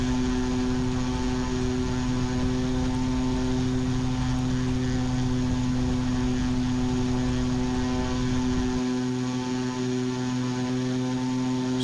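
Twin Otter turboprop engines in the GeoFS flight simulator game drone steadily at full power, a loud, constant propeller hum with strong tonal bands that shifts slightly in pitch near the end, with no talking.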